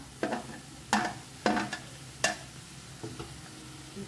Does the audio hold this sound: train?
no